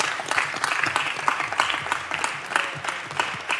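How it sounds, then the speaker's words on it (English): A committee hearing room fills with steady applause, many hands clapping in a dense, even patter for a few seconds with no pause. "You can applaud, but we still have another bill."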